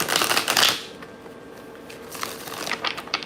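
A deck of cards riffled in a quick, loud burst at the start, followed by a quieter stretch of light card handling, close by with no voices.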